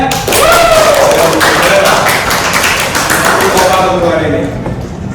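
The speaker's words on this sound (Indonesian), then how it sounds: "tepuk tangan untuk kalian" A group claps for participants after a counting game in a class session: a loud, dense burst of clapping sustained for several seconds, with voices mixed in.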